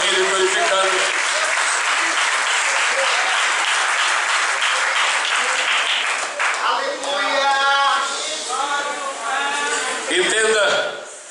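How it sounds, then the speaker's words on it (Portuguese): A church congregation applauds in praise, dense clapping filling the first half before voices rise in cheering and singing over fading claps toward the end. "Toma o seu lugar aplaudindo e glorificando."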